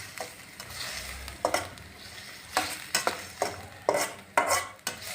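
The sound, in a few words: stirring potato and pea curry in a pan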